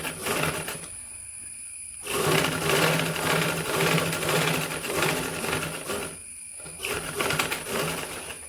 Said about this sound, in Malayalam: ഇവിടെ ഇങ്ങനെ ഒരു 1/2 ഇഞ്ച് ഗ്യാപ്പിൽ സ്റ്റിച്ച് ചെയ്യാം